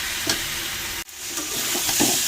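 Soybean curry spices fry in a pan and are stirred, giving a steady close sizzle with scraping strokes, a brief cut near the middle, and no voices.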